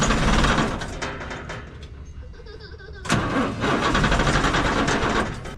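A dump truck's engine turns over and runs with a steady mechanical drone while a new gear pump for its open-center hydraulic system is tested; the roar dips midway, then surges back loud and close.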